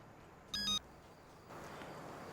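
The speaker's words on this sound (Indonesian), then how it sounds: "Waduh, telepon lagi." A telephone gives a single short electronic ring, a bright beeping tone that sounds briefly and stops, followed by faint room noise.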